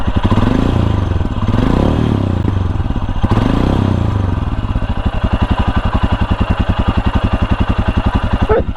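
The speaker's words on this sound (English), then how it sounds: "That very typical thump of a single cylinder." A Royal Enfield Scram 411 single-cylinder motorcycle engine idles close by with a rapid, even thumping pulse and tractor-like clatter, after a brief rev at the start.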